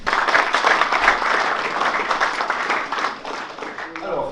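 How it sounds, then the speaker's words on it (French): Audience applause at a real-estate seminar in Nice, a moderate steady patter of clapping for a few seconds with voices mixed in underneath and fading at the end. "Je vous laisse l'applaudir."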